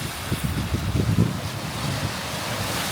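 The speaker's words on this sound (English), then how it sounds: "look at the crashing waves." Waves surge and crash on the shore of Lake Superior under a gusty wind that buffets the microphone, with a low, rolling wash that rises and eases.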